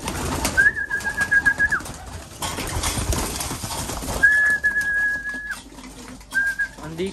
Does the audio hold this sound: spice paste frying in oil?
no